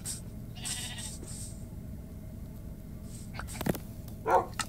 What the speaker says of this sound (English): I just need one more sheep to come here.